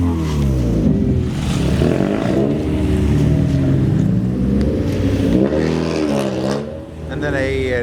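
At a car meet, a Mazda Miata engine revs and swells, its exhaust rising and falling in loud sweeping pitches, with crowd noise and people talking nearby.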